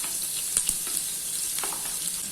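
Onions frying in well-heated oil in a pan for mutton paya curry make a steady, close sizzle, with a few light scrapes and taps of stirring.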